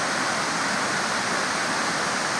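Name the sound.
West Creek waterfall rushing over shale at Tuxedo Park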